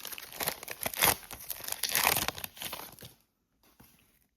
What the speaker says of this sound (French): Allez, il y a quelques packs à ouvrir.